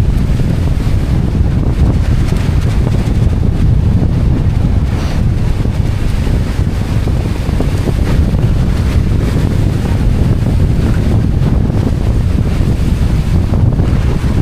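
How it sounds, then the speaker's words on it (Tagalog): Strong wind at sea on the Pacific roars and buffets the microphone continuously, with a low rumble like open water beneath it and no talking. "Grabe kalakas ng hangin."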